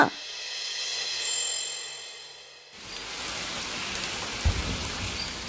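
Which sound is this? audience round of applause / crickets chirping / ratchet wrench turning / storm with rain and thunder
storm with rain and thunder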